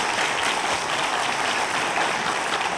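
A studio audience claps to welcome a natural history museum director to the stage for a lecture. The applause is even, continuous and loud throughout, with no voices heard.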